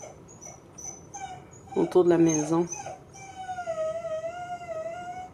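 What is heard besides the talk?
dog whimpering and crying, scared of wind storm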